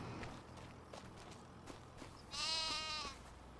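In the Farming Simulator 25 video game, a single clear sheep bleat rings out midway over a bed of soft hoof steps and shuffling from the flock.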